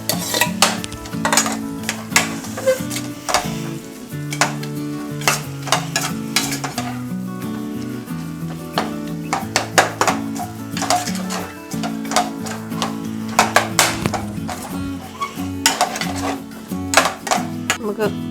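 Beaten eggs being stirred into biryani masala in a steel pot, giving a steady scraping and sizzling with metal clinks over continuous music-like background.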